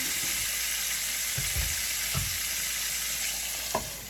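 Thick pork chops, lightly browned, frying in a pan with a constant close sizzle and a few soft bumps and pops, no talking.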